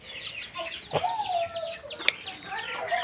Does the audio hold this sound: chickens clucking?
yes